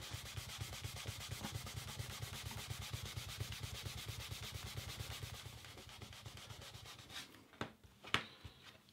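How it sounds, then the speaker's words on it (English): A cloth rubbed along the edge of a leather slip case laid flat on a table, a steady rapid back-and-forth scrubbing that stops near the end, followed by a couple of faint knocks. "I'm just going to actually use a cloth flat on the table and just come so it contours nicely around the edge"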